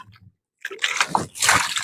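Water splashes and sloshes close by as a bull is washed in a village during the Pola festival, a quiet moment then a couple of wet bursts of splatter.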